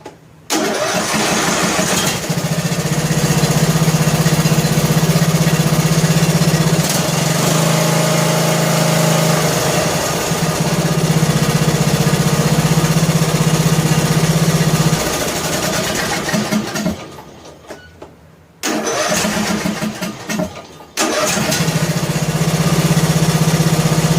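A warmed-up John Deere L100 lawn tractor engine idles slowly and steadily with a low, even rumble, briefly cutting out and restarting near the end.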